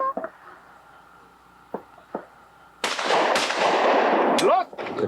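Shotgun fire at an Old West shooting competition: a couple of faint sharp reports first, then a loud blast with a long ringing, crackling tail and further overlapping shots, close and harsh.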